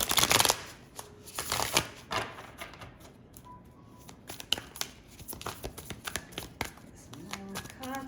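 A tarot card deck being shuffled by hand, with crisp riffling bursts and papery flicks coming close and fairly quiet, varying in rhythm, with occasional faint background tones.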